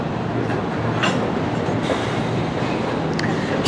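A train rumbles steadily through Denver North Yard during switching operations, a continuous heavy roll with faint metallic squeals and clanks rising over it.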